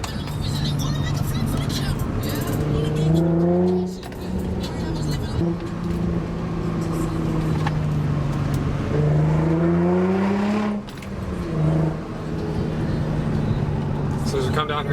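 Infiniti G35 engine blipped to rev-match on a downshift to third while cornering, heard as two rising revs from inside the car over steady road and engine drone.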